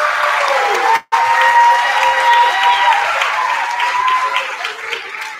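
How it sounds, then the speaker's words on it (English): Audience at a school Christmas performance applauds the tech crew with steady, dense clapping and a few cheers, loud and continuous except for one sudden brief dropout. "If you guys could all give a round of applause for them."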